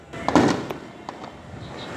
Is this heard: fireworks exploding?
yes